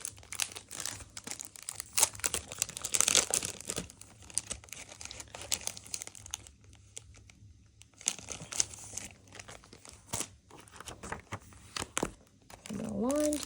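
Sheets of lined paper are handled and inserted into a personal planner, with close, irregular crinkles, rustles and soft taps broken by short pauses.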